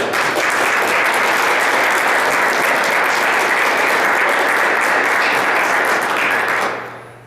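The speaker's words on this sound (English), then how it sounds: "So a big round of applause for Grant." Sustained, loud applause from an audience, dense and even for several seconds before quickly fading out.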